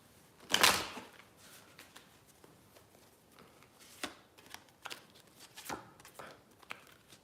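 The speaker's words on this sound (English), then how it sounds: "Pulling out 3 cards to see." Tarot cards are shuffled in one quick, crisp riffle near the start, then lighter flicks and taps follow as cards are pulled from the deck, quiet and close.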